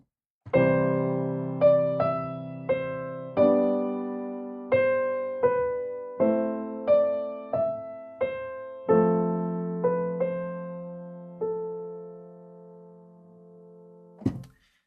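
Piano melody played over left-hand chords, its notes stepping through non-chord tones that settle onto chord tones; a dozen or so clear, ringing struck notes and sustained chords in moderate rhythm, ending on a final sustained chord, without talk.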